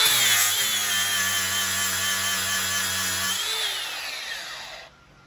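A flap disc on an angle grinder scours mill scale off hot rolled steel, a loud, close, high-pitched whirring grind that holds steady, then spins down and fades to silence at the end.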